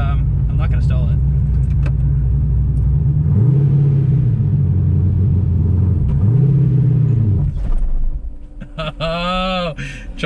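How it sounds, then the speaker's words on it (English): A 1000 hp Corvette engine idles with a heavy low rumble, blipping up twice, then stalls and falls silent, followed by a short burst of bright tonal noise; people talk during the clip. "Oh, Chucky stalls it"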